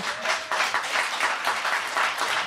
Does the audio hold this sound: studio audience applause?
yes